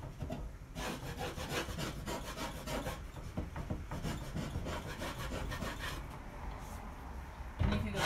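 Steady rhythmic scraping and sanding strokes over painted wood for a chippy paint finish, close and continuous rasping with a brief bump near the end.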